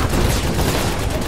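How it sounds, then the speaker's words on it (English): A rapid burst of gunfire crackles in Apex Legends, coming from behind the player; the fire is loud and continuous for the brief moment, with no speech over it. "We're getting shot from behind."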